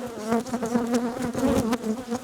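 Honeybees being transferred from a nuc box into a hive produce a dense, continuous buzzing swarm close by, steady and loud with no talking.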